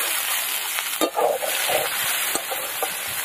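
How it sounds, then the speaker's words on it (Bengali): Chopped onion fries in hot oil with bay leaf, dried chili and whole spices, giving a steady close sizzle throughout with a few brief stirring scrapes and soft knocks in the middle. "পেঁয়াজটা ভালো করে লাল করে ভেজে নেব"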